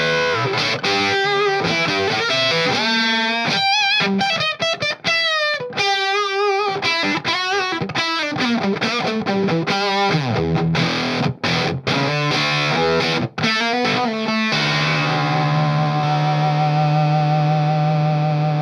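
Loud, harmonically saturated lead lines from an electric guitar through an octave-heavy 1970s Japanese fuzz pedal, played in quick runs and bends before settling into a long sustained, buzzing note.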